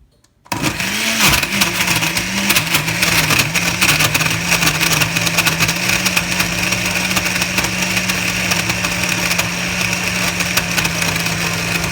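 A blender whirs loud and close, blending a frozen banana and spinach smoothie. After a brief silent start the motor kicks in and holds a steady, unbroken drone.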